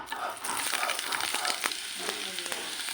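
Garlic and onion hitting hot oil in a wok-style pan while cooking a winter flat-bean fry, a bright steady sizzle with a few stirring clicks and scrapes, close and alone.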